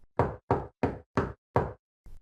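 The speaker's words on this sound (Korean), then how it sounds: "삐걱이는 낡은 울타리 문을 두드리는 소리" Knocking on an old, creaking wooden fence gate on a rainy night: five firm, evenly spaced raps close by, then a softer sixth knock, with no voices.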